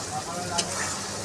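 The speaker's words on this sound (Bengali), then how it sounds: "আলুটা দিয়ে কষিয়ে নেব" Potato pieces sizzling and frying in oil in a pan for prawn pulao, a dense steady hiss with a brief stir-like clink midway, fairly close and without talk.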